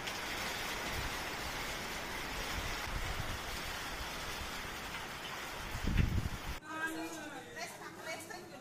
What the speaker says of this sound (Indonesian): hujan lagi hujan angin.